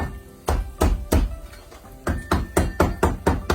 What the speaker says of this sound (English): I'm going to use my trusty Asian cleaver and I'm going to crush